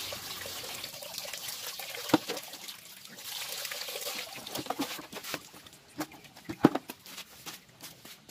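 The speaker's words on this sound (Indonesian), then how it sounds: "Kita bilas lagi dengan air." Water splashing and trickling over a Toyota Avanza rear brake shoe as it is rinsed, soft and uneven, with a few sharper drips and knocks scattered throughout.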